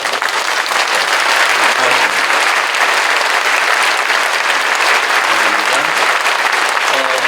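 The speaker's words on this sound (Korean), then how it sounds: "일어서실 때 큰 박수로." A church congregation at a Korean Christian commemorative worship service claps loudly and steadily as guests stand, a dense, even wall of applause lasting the whole stretch without letting up.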